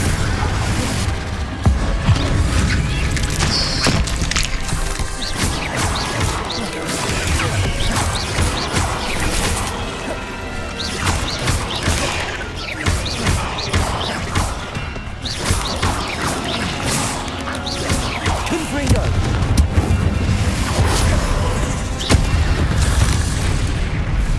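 Repeated Confringo and Incendio spell blasts in the Hogwarts Legacy video game give a dense, loud barrage of booms, crashes and fiery bursts, with clustered impacts continuing throughout.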